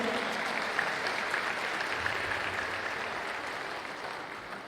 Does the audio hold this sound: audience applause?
yes